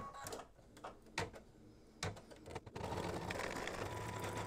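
An embroidery machine loaded with white thread stitches for a quilted mug rug, a few sharp mechanical clunks and rattles at first, then a steady whirring hum runs to the end.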